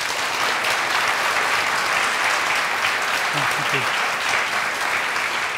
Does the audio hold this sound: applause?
yes